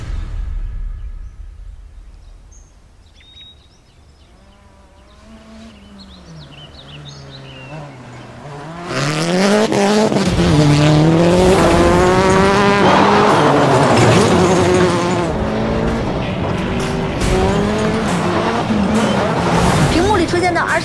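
A race car accelerates hard down a straight, its engine climbing through rising pitch sweeps, quiet at first and then loud and sustained, with talk over the noise.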